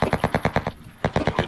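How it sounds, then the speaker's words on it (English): Rapid automatic gunfire in the video game Cuisine Royale, a loud close burst of evenly spaced shots, a brief gap, then another steady burst. "Yep, there's shots fired."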